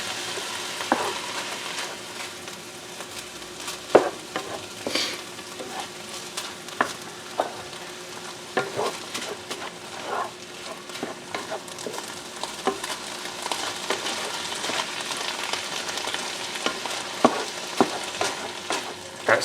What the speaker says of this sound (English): I'm just going to put that in and mix it all together with the meat.